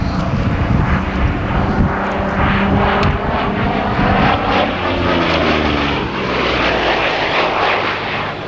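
A military aircraft with two large engines, one on either side, passes at an RAF Honington airshow in 1992, a loud, sustained engine roar that swells and shifts in pitch as it goes by.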